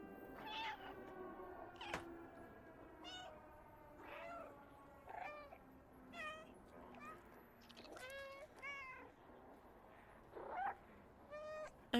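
A cat meows repeatedly in the video game Stray, with a series of close, varied mews and drawn-out caterwauls spread across the span, sometimes with a human voice in the background.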